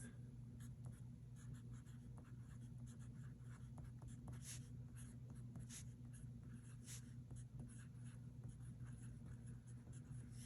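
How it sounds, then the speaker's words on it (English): A TWSBI Eco fountain pen writes on paper with soft, scratchy nib strokes and short ticks, very close and faint over a steady low hum. "this Twisby Eco just puts down so much ink, it's so fun to write with"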